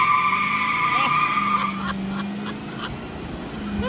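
Diesel pickup trucks launch side by side in a drag race, with tire squeal and engine roar up close under excited talk. The engine note holds steady for a few seconds.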